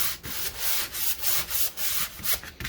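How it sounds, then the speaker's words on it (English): A sanding block rubs back and forth across a dried painted canvas sign in even, repeated strokes, close and fairly loud with no talking. "I'm just going to sand it down"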